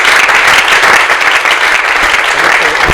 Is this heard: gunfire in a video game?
no